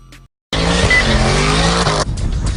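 A car escaping a police officer in busy Times Square in news footage roars off loudly, its engine and tires squealing for about a second and a half after a brief silent gap, then dropping to street noise.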